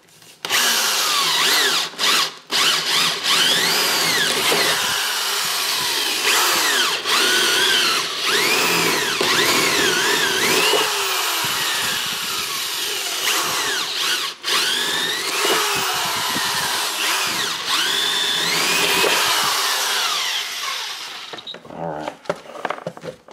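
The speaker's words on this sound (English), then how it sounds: "I'm going to drill 4 holes." A power drill whirs loudly in repeated bursts, revving up and down as it bores four holes while installing a shower drain, with brief pauses between holes.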